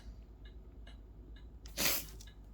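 One sharp sneeze bursts out near the end, loud and close, after faint breathy sounds over a quiet indoor background hum.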